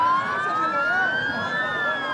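Ambulance siren wailing through a small Egyptian village, a loud rising and falling tone sweeping steadily across the whole stretch over faint background noise.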